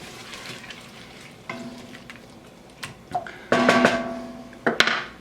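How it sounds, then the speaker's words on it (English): Vegetable stock poured into a hot pot of Ethiopian chickpea stew with garlic, setting off a burst of close, loud sizzling and bubbling over a quieter, steady frying hiss. "I'm going to go ahead and add the rest of our vegetable stock in there."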